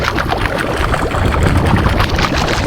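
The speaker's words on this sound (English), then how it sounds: "it makes sense to put the pump on for a little bit just to make sure nothing fills up like it should do" Water pump running on a farm, filling a tower, with a steady close rushing and gurgling flow of water throughout.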